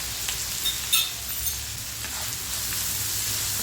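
Boiled peas with chili powder, turmeric and garam masala are lightly sautéed in a pan for little millet (samai) khichdi, giving a soft steady sizzle with a few brief clinks of stirring near the start.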